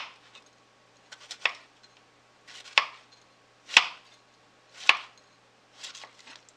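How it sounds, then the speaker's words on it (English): A knife slices a block into thin pieces on a cutting board. About five crisp, evenly spaced chops sound close and clear, with quiet gaps between them. "So you're going to just do really thin slices this way."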